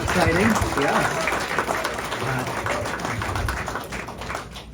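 Applause for JetBlue's arrival in Presque Isle fills the room, dense crowd clapping at steady loudness that tapers slightly toward the end, with some voices mixed in.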